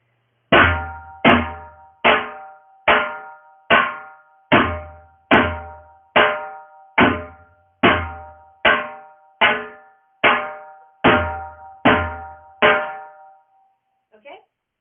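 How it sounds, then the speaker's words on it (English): A dhol drum plays two rhythm cycles in a steady run of about sixteen loud, close strikes, each with a deep bass boom and a ringing decay, ending with a faint soft tap. "Now if I play two cycles, it should sound like this."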